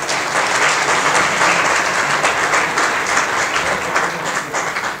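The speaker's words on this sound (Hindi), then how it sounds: "अपने लिए ज़रा तालियां बजाइए" Loud, sustained audience applause fills a hall at a lawyers convention, a dense continuous roar of many hands clapping with little else audible.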